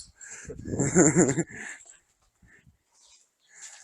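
A dog at a village house being shown for sale whimpers and makes a short, high, wavering yelp-like cry, fairly close, followed by quieter brief sounds and near silence.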